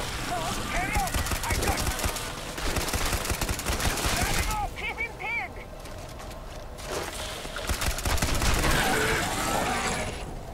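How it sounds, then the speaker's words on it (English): Sustained machine gun fire in the video game Starfield, loud dense bursts running nearly nonstop with brief pauses, mixed with mechanical clanks and other game effects. "So this is why I got a machine gun."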